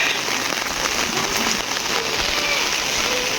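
Steady rain falls in a village near rice fields, a dense, even patter on surfaces that holds at a constant loud level throughout.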